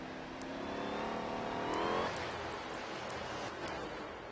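Powerful hypercar in a racing video game, an engine revving upward for about two seconds before easing off, moderately loud over a background hiss.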